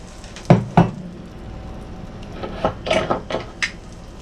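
Eggs fry in a pan with a low steady sizzle, broken by a couple of sharp clinks of utensils or cookware early on and clustered scraping bursts later, close and fairly loud with no talking.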